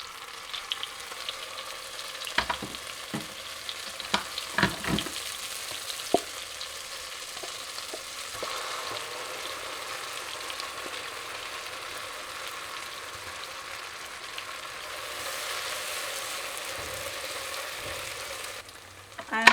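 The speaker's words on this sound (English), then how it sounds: "And then we're gonna pour our paste in." Paste is poured into melted butter in a pan and fries with a steady, quiet sizzle. Scattered utensil clicks and stirring knocks come early on, and the hiss swells slightly toward the end. No voices are heard.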